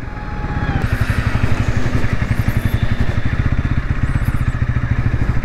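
Bajaj NS200 BS7 2023 motorcycle starting and then idling at a service centre, its single-cylinder engine thumping in a loud, close, steady rapid pulse with faint clatter on top.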